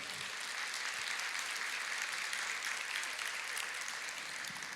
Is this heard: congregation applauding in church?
yes